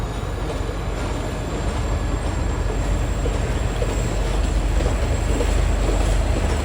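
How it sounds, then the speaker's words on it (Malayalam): A local train pulls out of a Sri Lankan station toward Colombo Fort, a constant loud rumble of wheels and carriages with a low engine drone and faint rail hiss, no voices. "ഇവിടെ നിന്നൊരു ട്രെയിൻ കൊളംബോ ഫോർട്ട് ഭാഗത്തേക്ക് പോവുകയാണ്."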